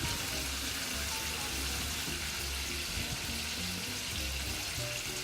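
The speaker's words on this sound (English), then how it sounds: "so while this is frying" Fish pieces fry in hot oil, giving a dense, steady sizzling hiss with faint crackles that continues unbroken at an even, moderate level throughout, with no voices.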